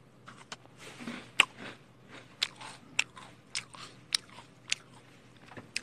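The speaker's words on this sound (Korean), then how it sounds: "먹방 한 번 더 보고 가시죠" Close, crisp bites and crunchy chewing come in a loose rhythm of sharp clicks and soft mouth sounds during a mukbang, quiet between bites, with no talking.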